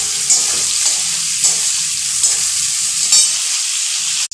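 Dried red chillies, chopped tomato and bay leaves frying in hot oil for a duck egg and potato curry, a loud close sizzle broken by regular stirring scrapes before cutting off abruptly.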